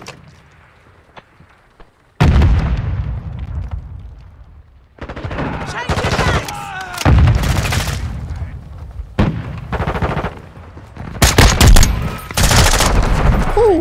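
Loud bursts of Modern Warfare 2 gunfire in irregular clusters: heavy automatic volleys and single sharp shots, with short lulls between them and a voice talking in places.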